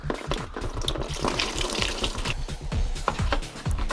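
Engine coolant drains from a lower radiator hose of a Mercedes 300SL R129 into a large plastic tub, a steady close splashing pour with bubbling and gurgling throughout, no voices.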